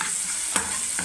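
Eggs fry in a pan with cumin and salt, giving a short hissing sizzle broken by a couple of quick scraping stirs, close and steady.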